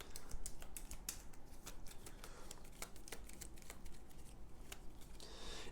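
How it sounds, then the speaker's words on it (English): Rapid papery riffling and soft card clicks repeat in quick bursts as an Eldritch Horror board game card deck is shuffled, close and steady, over a low background rumble; no talking. "So we're going to shuffle the Mythos deck."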